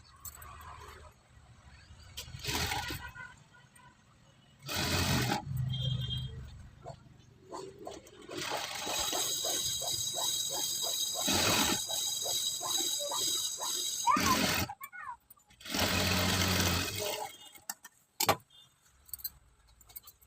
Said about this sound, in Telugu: ఇలా డబల్ కుట్టేసుకోవాలి